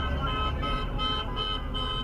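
Car horns honk steadily from passing drivers on a city street outside a sanitation garage on Staten Island, where workers protest a vaccine mandate. The blaring tones continue over a low hum of traffic.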